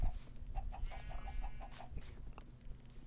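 Chickens clucking in Minecraft Bedrock on PS4 farm: a rapid series of short, evenly spaced clucks in the first half, then fainter scattered sounds over a low background hum.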